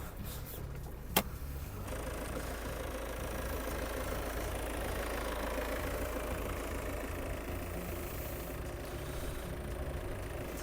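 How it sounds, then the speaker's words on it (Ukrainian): The diesel engine of a 2017 Peugeot 5008 GT 2.0 HDi idles steadily with a low, even rumble, heard close and uninterrupted after a brief click near the start. "двигун працює гарненько,"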